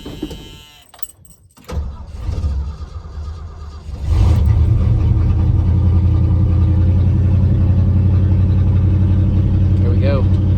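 A 1979 Ford F250 truck engine cranks and catches on a cold morning. Brief rattling comes first, then a short churn of the starter, and after that a steady, loud idle rumble that carries on to the end.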